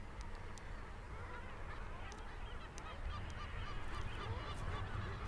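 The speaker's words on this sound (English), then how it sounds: "the cliffs are full of birds, tumbling, strutting and arguing" Seabird colony on the cliffs of Puffin Island, a dense, continuous wash of overlapping honking and squabbling calls from many birds at close to middle distance, steady and loud throughout with no speech.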